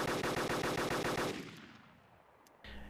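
A sniper rifle in DayZ fires a rapid burst of about ten evenly spaced shots, then the echo decays away and a brief mechanical click follows.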